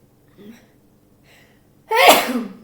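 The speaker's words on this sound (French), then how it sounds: "attention, je vais peut-être éternuer." A single sharp, loud sneeze close by, preceded by a couple of faint breaths in a quiet room.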